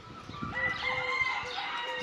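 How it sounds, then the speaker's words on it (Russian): A rooster at a safari park in Crimea crows loudly and steadily nearby, a drawn-out call with faint background clatter underneath. "Петушок, золотой гребешок."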